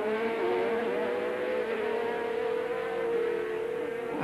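A Formula 3000 race car braking late at the 1990 Birmingham Superprix street race: a steady, loud engine whine with a descending pitch as it slows, continuous throughout and heard alone without talk.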